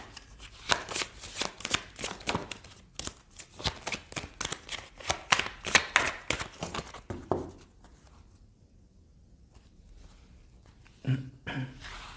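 Oracle cards for a spiritual reading are shuffled in a long run of rapid riffling bursts for about eight seconds, close and crisp, then quiet with one brief shuffle near the end.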